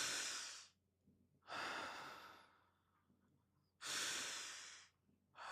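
Two slow, deep breaths in a quiet room, each a long audible inhale and exhale, close and breathy, separated by brief silence.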